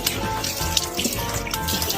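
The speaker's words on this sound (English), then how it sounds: "Rinse it thoroughly with water" Tap water runs continuously while hands are rinsed under it, a close, steady splashing wash with small irregular spatters throughout.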